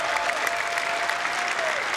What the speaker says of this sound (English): Stop clapping, damn it.